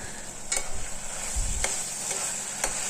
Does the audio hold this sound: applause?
no